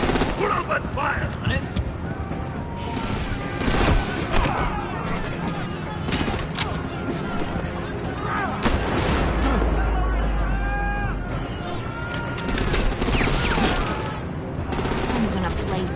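Gunfire and explosions in Batman: The Enemy Within, rapid bursts of shots and heavy booms layered under shouting voices, loud and continuous across the whole scene.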